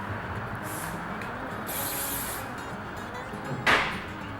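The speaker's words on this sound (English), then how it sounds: "So I'm just going to apply some spray." Curl setting spray is sprayed onto hair during a 1960s half-up poodle style, giving a few soft aerosol hisses, one at the start and a longer burst in the middle, followed by a short, sharper spritz near the end.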